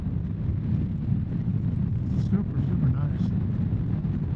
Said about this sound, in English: A lot of crosswind today.